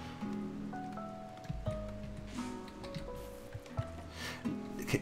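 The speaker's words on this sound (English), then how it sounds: "There's also the rain, and it's so ASMR, so lo-fi." Soft rain ambience in the colony-building game RimWorld patters faintly beneath a mellow, sustained-note music track.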